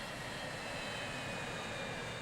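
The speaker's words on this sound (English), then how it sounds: "Hey, there's my Virgin plane." A Virgin airliner in the Transport Fever 2 simulation game passes with a steady, loud broadband jet roar that holds even throughout, with no voices.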